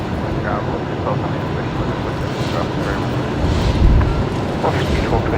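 An Aircalin Airbus A330 heard at Brisbane Airport at night, a steady broad jet engine roar at moderate distance that swells slightly toward the end, with people talking over it.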